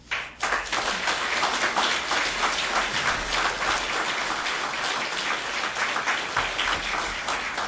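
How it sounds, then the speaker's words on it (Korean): A church conference crowd applauds steadily and warmly to welcome a speaker, dense clapping sustained for several seconds without pause. "이 시간에 나오실 때 우리가 존경하는 의미로 박수로 환영하겠습니다."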